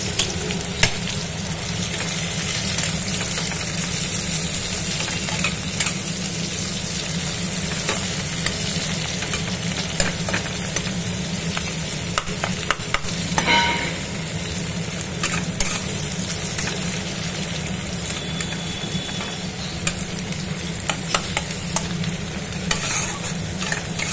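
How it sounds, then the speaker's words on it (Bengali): Sliced onions crackle and sizzle steadily in hot oil for a Bengali pointed-gourd dolma gravy, with spatula stirring scrapes throughout and a brief louder burst midway. No one speaks. "এবার আমার তেলটা গরম হয়ে গেছে, পেঁয়াজটা দিয়ে দেবো।"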